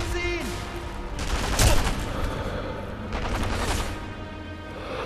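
Gunfire from the sniper video game Sniper Elite V2, a loud shot burst peaking near the middle with a booming low end, followed by a second rumbling report, set over continuous game ambience.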